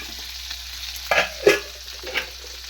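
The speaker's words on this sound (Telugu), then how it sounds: "ఇప్పుడంతా కలిపేసుకొని చూడండి టమాటా అయితే మగ్గిపోతుంది" Spoon stirring a tomato mixture in a pan for tomato chutney, a few short scraping strokes in a quiet kitchen with a soft background hiss, no talking.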